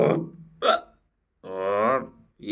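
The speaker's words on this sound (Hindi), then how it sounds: "आप ये देख रहे हो इस भाई को डकार लेते हुए" A man's belches come in two brief bursts and one longer voiced eructation with a clear tonal quality, heard up close with no talk.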